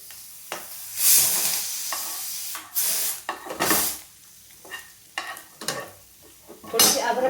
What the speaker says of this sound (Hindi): ये अब इधर मेरी दाल भी पक रही है